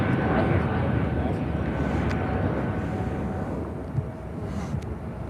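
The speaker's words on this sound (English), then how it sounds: "JetBlue Airways Flight 906 heading to JFK and an Airbus A220-300." A JetBlue Airbus A220-300 jet at Chicago O'Hare gives off a moderate, steady engine rumble that eases slightly over time, with voices talking over it.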